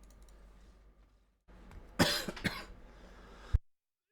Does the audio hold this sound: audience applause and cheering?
no